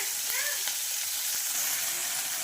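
Leafy greens frying in hot oil in a pan for a quick lunchbox vegetable dish give a steady, close sizzling hiss that runs unbroken throughout, with a few faint clinks.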